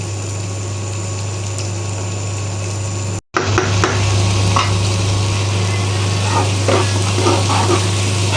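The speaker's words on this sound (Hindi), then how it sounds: "ये देखिए मसाला हमारा अच्छे से फ्राई हो गया है और प्याज टमाटर भी पूरा अच्छे से।" Masala with onion and tomato frying loudly in a pan, a dense steady sizzle under a constant low hum, briefly cut off then resuming with scattered stirring scrapes, no voices.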